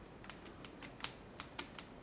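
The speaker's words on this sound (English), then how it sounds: "moving the carriage." The carriage of a Badenia VA 17 mechanical calculating machine is moved, giving a faint series of light clicks and ticks at uneven intervals, about eight in two seconds, over low background hiss.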